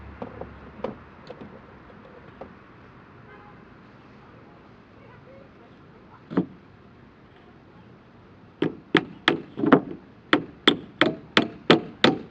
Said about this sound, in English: the nails I got they're very hard to hammer in to this